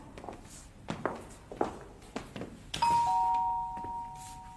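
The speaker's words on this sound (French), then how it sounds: "tu le vois, le bouton de la sonnette?" A doorbell in a building's entrance rings with a bright two-tone chime that holds and fades, following several soft footstep-like knocks and shuffles.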